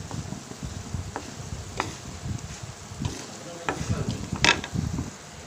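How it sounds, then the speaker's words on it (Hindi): A spoon stirs gulab jamun frying in hot oil, giving light scraping clinks and gentle shuffling over a soft sizzle, irregular and close, with a bit of faint talk. "तो इस तरह से चामच से हिलाइए ताकि पूरा साइड जो है पूरा सा फ्राई हो जाए"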